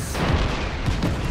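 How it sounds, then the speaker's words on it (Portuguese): Dense, continuous barrage of booming explosions and rattling gunfire from the video game Just Cause 3, loud and overlapping with no pauses. "Agora uma explosãozinha aqui, outra ali. Uma metralhada aqui. Depois uma explosão, né?"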